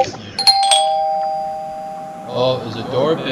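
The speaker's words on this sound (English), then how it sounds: "Oh, is a doorbell." A doorbell chimes twice in quick succession, bright and ringing, its tone lingering and fading before voices start talking over the end.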